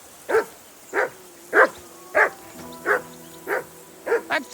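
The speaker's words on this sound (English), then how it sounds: "That dog of yours is barking like the devil." A dog barks repeatedly in Kingdom Come: Deliverance II, eight evenly spaced loud barks with a short double bark at the end, close and alone over a faint musical drone.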